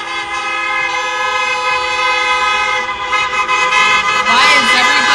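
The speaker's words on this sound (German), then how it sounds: "Why is everybody honking their horns when they go past?" Car horns blare as vehicles pass a street protest in Straubing: one long, sustained horn tone holds throughout and then gives way to more horn blasts near the end, with voices faintly in the background.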